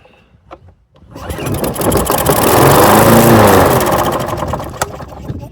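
A Craftsman push mower engine with a carburetor needing cleaning fires up after a few faint pulls and a quiet pause, then roars loud and close, holding a rough running drone before sputtering and fading.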